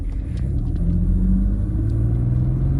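A BMW E46 325i accelerates hard in sport mode with a misfire, giving a loud, steady low engine rumble with a rising drone held close throughout and no talk.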